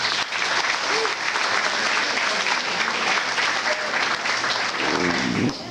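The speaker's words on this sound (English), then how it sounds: "So can we give them another round of applause?" A room full of guests at a high school soccer team banquet breaks into sustained applause, dense steady clapping close by with a few faint voices mixed in.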